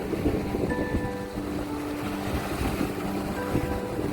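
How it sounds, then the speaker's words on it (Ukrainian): Choppy, rough sea waves wash and slap continuously on a windy day in Torrevieja, Spain, with a low boat motor hum running underneath. "Море сьогодні неспокійно."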